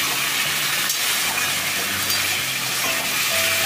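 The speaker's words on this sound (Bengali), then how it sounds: "একটু নুন আর হলুদ দিয়ে একটু ভেজে নিচ্ছি।" Vegetables fry steadily in a pan with salt and turmeric, giving a dense, even sizzle with faint stirring clinks close by and no talk.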